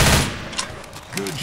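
Gunfire in Left 4 Dead, a loud burst of shots at the start followed by a few scattered reports, with a brief voice-like sound near the end.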